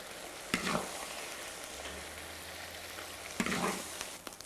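Vegetable topping stir-fried with a pinch of cumin in a wok sizzles softly and steadily, with a couple of sharper scraping stirs of the spatula against the pan; no one talks.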